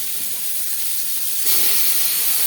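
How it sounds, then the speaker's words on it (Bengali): Chopped onions hitting hot oil in a wok already used for frying fish, sending up a loud, steady sizzling hiss that swells sharply partway through and keeps crackling. "মাছ ভেজে নেওয়া কড়াইতে আবারও তেল দিয়েছি, দিয়ে দেবো পেঁয়াজ কুচি"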